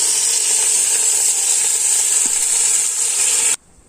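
Drained, washed rice hits hot masala in a pot for chicken biryani and gives a loud, steady sizzle up close, which cuts off sharply near the end.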